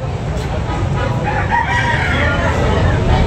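Roosters crowing amid a busy Sunday-morning chicken market in Tabunok, Talisay, Cebu, the calls loud and overlapping against a dense wash of crowd noise and clucking fowl.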